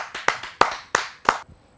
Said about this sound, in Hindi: आइए जोरदार तालियों से आमंत्रित करते हैं मौसम विज्ञान विभाग की सुषमा सिंह जी